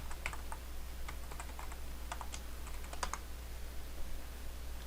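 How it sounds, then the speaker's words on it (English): A password is typed on a computer keyboard, with quick runs of close key clicks over a low steady hum and no talk. "Assuming that I typed that in correctly."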